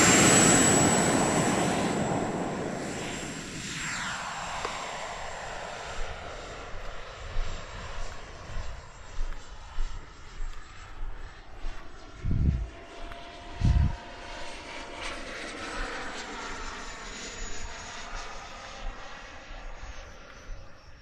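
An FMS F-86 RC jet airplane flies past, its whine loud at first and then fading to a distant hum, with two brief low bursts near the end.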